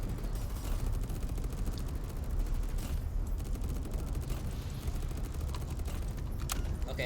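Combat drone in the game Tower Defense X firing at shielded enemies, a dense continuous rattle of rapid gunfire with no break and no talk.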